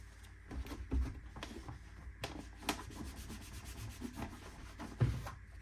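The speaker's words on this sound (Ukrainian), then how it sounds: "Тепер обов'язково витираємо м'ясорубку від наших слідів, які могли залишитися під час ремонту" A cloth rubs and wipes over a Bosch meat grinder after its gearbox has been repaired, making soft, close scrubbing strokes with a few heavier bumps of handling.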